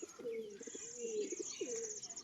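Two black jack pigeons with white eyes cooing close by, a few rolling coos in quick succession with soft chirps under them.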